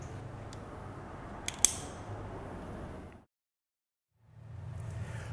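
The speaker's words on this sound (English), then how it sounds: "firmly close the top. You'll feel it click shut" A wire splice tube's plastic top snapping shut during valve wiring, heard as a sharp double click standing out over a steady background hum, followed by a brief drop to silence.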